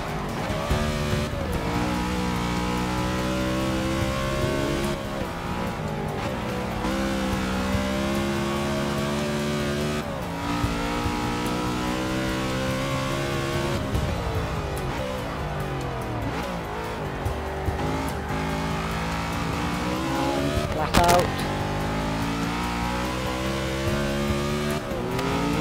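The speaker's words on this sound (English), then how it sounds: "Engine definitely screaming at us a bit more." A race car engine screams continuously in Forza Motorsport 6, loud and high-revving with repeated gear shifts and rising pitch sweeps, tires squealing in places, with no talking.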